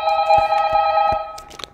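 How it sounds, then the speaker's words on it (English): Telephone ringing in a horror video game, a loud, close electronic trill with a steady tone for about a second before it cuts off, followed by a few faint clicks. "Why is the phone ringing?"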